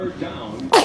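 A baby lets out one sudden, loud sneeze at the very end, after a short stretch of quiet breathy background.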